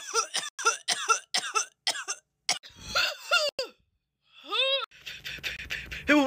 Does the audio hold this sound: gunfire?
no